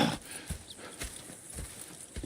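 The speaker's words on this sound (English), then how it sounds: "Go check the horses are ready." Horses' hooves clop on hard ground in an even walking rhythm, about two steps a second, moderately close with no talk, in the video game Red Dead Redemption 2.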